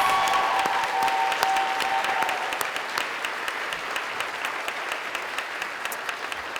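A crowd applauding the 2021 Central Lakes graduates at a college commencement ceremony, loud steady clapping that gradually thins and softens, with a brief tone at the start.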